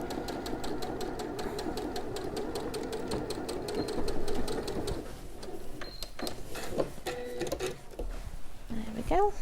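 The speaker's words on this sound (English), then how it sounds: "So I'm just sewing directly underneath that elastic without, because we need to be able to pull the elastic." A sewing machine stitches along just beneath a band of elastic, its rapid mechanical needle chatter running steadily for the first half before breaking into shorter bursts with small clicks and pauses.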